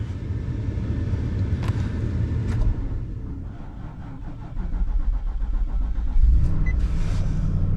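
A Nissan car engine is cranked and catches, then settles into a steady, loud idle at close range with a brief rise in revs; no one speaks.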